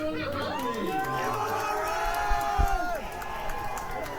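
A crowd at an amateur boxing fight cheers and shouts as a fighter's name is called, a loud mix of overlapping voices and chatter with a few thumps and brief clapping.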